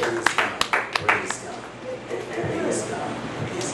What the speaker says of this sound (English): Come on, all seed sowers, let's clap our hands and let's praise God.